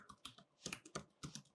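Quick bursts of keystrokes on a computer keyboard while JavaScript code is being typed, a close, dry clatter in uneven clusters with brief pauses between them.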